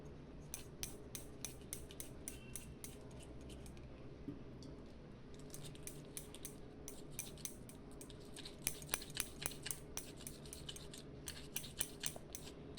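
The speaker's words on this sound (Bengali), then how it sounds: "তো এবার আমি সব এগুলোকে ঘুটে নেবো" Homemade yellow paint from three household ingredients being stirred, a steady run of small scraping, clicking strokes against the container, close and fairly quiet, with a few sharper clacks later on.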